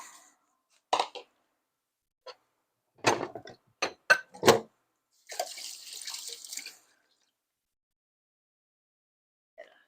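Cooking water from a pot being poured off into a kitchen sink, heard as short splashes and clatters followed by a steady gush of water lasting a couple of seconds, then quiet.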